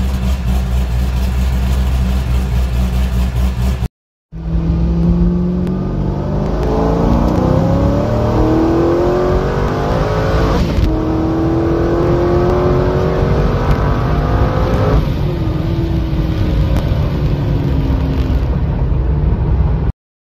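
A boosted C5 Corvette revs and accelerates hard from 60 to 130 mph, its loud engine and whine rising steadily through several gear changes, with a brief cut near the start and no talking.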